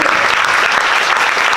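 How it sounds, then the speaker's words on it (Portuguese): An audience at a public talk gives a short burst of loud, close, dense applause that continues evenly throughout without pause. "palmas à família Santos por conceder"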